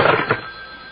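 A telephone rings once in a short, loud burst with a quick second pulse, fading into a lingering tail.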